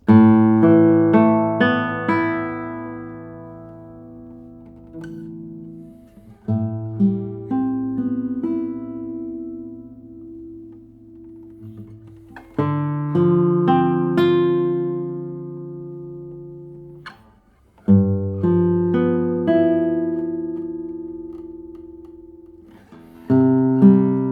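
Acoustic guitar played alone in ringing strummed chords and plucked notes, with pauses between phrases letting each chord sustain and decay.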